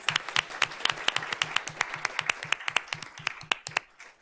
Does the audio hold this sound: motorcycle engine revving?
no